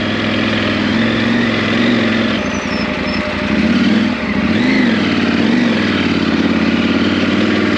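Off-road motorcycle with a tall seat, engine running steadily on a steep downhill chute trail, a close continuous drone that dips and swells with throttle changes, no talk.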